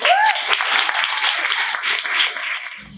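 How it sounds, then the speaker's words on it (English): An audience applauds poet Dan Vera at a queer poetry reading, a short burst of lively clapping that holds steady and cuts off abruptly. "So a round of applause for Dan Vera."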